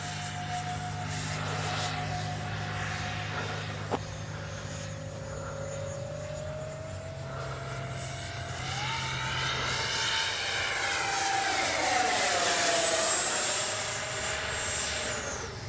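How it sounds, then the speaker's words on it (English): A Freewing F-14A RC model jet flies past with a continuous whining turbine roar whose pitch slides and shifts as it climbs and banks, swelling louder midway and easing off toward the end. "Beautiful flying plane."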